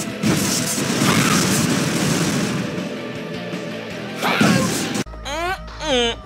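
Cartoon thwacks, smashes and booms from a Billy and Mandy video game as Billy is beaten during the credits: a dense, continuous barrage of impacts that thins out, then gives way to talk near the end.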